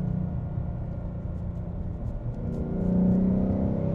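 A 2018 Mustang GT in quiet mode drives in third gear with a subdued, steady engine hum and road noise, rising a little toward the end, with no voices.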